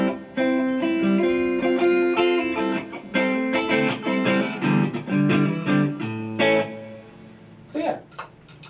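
Electric guitar chords and single notes played through an ambient reverb pedal, with a spacious reverb tail, sustained and ringing, ending in a few brief plucked notes.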